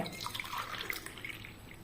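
Beetroot juice poured into a cup for measuring, a faint, close, gentle liquid trickle with small splashy drips over a couple of seconds, alone without voices.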